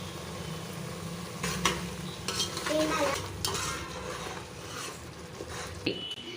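Yogurt being added to egg biryani masala frying in a pot, with a steady sizzle under repeated stirring scrapes and occasional clinks of a spoon against metal, close and fairly loud, with no voice.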